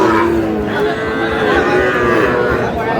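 A Sahiwal bull calf moos in a long, loud, drawn-out call close by at a cattle market, the sustained lowing steady throughout with faint background noise.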